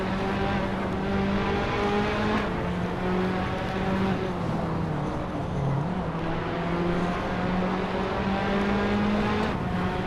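A Formula 3 style race car driving in the Hot Wheels video game, a steady high engine drone with small pitch shifts as it holds speed, near and continuous with no break.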